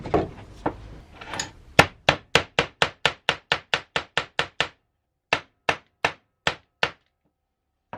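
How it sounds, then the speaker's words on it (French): A hammer taps wood while a guitar is being built, first a few softer knocks, then a quick run of about fifteen sharp, evenly spaced raps, a pause, and five more, close and clear with no talk. "Petit coup de marteau."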